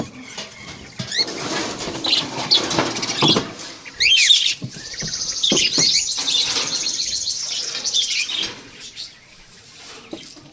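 Budgies chirp and twitter busily in a cage, with bright high calls overlapping, bursts of rustling and wing flutter, fairly close.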